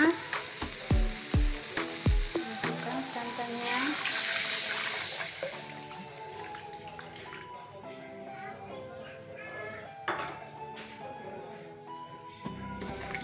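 Coconut milk is poured into a spiced cassava leaf mixture for buntil, with a few sharp knocks at the start, then a steady wet, sizzling pour close by that settles into a softer bubbling.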